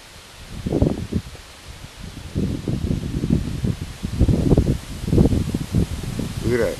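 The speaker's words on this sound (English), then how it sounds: "Real windy though." Strong outdoor wind buffets the microphone in loud, uneven rumbling gusts that rise and fall for several seconds, recorded during a drone flight in heavy winds.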